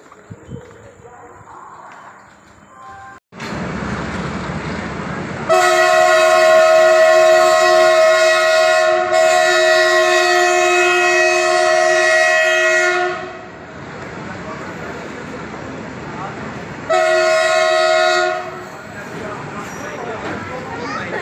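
Bhavnagar–Haridwar train at a station platform, its loud multi-tone horn blasting in a long sustained burst and then a shorter second blast, with station bustle and voices underneath.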